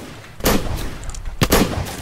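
Two loud, close gunshots in a Wild West video game, each a sharp blast with a lingering boom, roughly a second apart.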